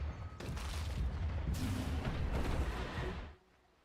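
A blood grenade ability going off in a multiplayer video game match, heard as a loud, sustained explosive burst with crackling booms that fills about three seconds before dropping off sharply.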